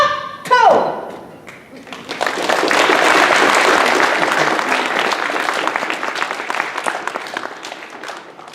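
Audience applause at an anime convention, a broad wash of clapping from a crowd that swells after a short voice and sustains steadily for several seconds before easing slightly.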